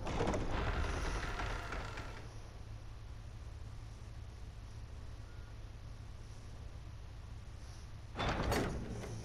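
A door opening in the action role-playing game Tales of Arise: a burst of sound, then a steady soft whoosh lasting several seconds, ending in a second louder burst, with no talk.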